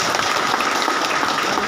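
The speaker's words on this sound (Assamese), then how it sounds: "সকলোকে হাত চাপৰি এটা বজাই দিব" A crowd at a political rally claps steadily throughout, a dense, even wash of applause with no voices standing out.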